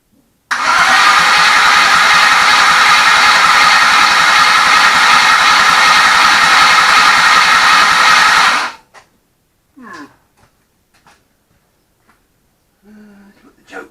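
A Ford Falcon restomod's engine cranks and fires, then runs loud and steady for about eight seconds before cutting out abruptly. A few short, quieter sounds and brief talk follow.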